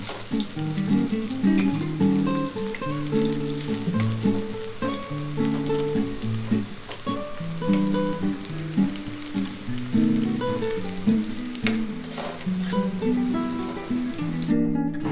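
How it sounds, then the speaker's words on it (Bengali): Water lily (shapla) batter fritters frying in hot oil, a continuous bubbling sizzle with soft crackles under background music, steady and close. "ওই শাপলার মাখানো ব্যাটারটাকে সুন্দর করে ছেড়ে দিচ্ছি তেলের মধ্যে"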